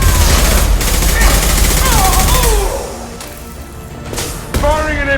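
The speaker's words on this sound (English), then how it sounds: "Firing an impact shot!" Impact shot gunfire in Mass Effect 2 against Eclipse mercs: a dense, loud burst of weapon fire and blasts fills the first few seconds, fades into quieter combat ambience, then flares again near the end under a voice.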